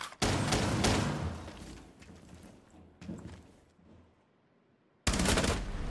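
P90 gunfire in a tactical shooter game rips out in rapid automatic bursts as the weapon shoots through a wall. The loud, close volleys are cut by brief pauses and a near-silent gap before a final burst.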